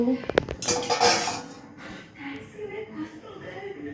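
Seeds being roasted and tossed in a metal pan, with a loud rattling burst of utensil scraping and clinking at the start that settles into lighter stirring noises, with faint voice sounds in between.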